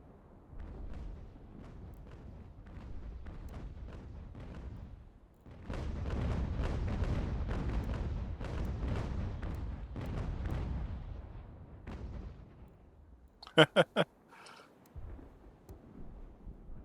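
Artillery fire and explosions in the video game Ultimate General: American Revolution, with dull booming rumbles that swell into a sustained roar, then a few sharp cracks near the end, no voices.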